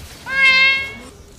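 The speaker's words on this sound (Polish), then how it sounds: "O, jest kotek." A cat in the League of Legends video game lets out a single clear, drawn-out meow lasting about a second, loud and close with nothing else behind it.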